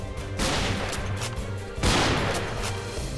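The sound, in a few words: gunfire shooting in a Minecraft animation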